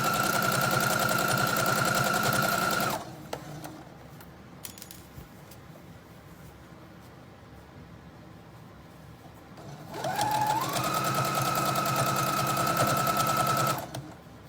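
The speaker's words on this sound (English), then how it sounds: "Just a nice little straight stitch." A sewing machine runs a straight stitch along a cozy fall wrap. Its steady, whirring hum is close and clear, running for about three seconds, falling quiet, then starting again for a second long run.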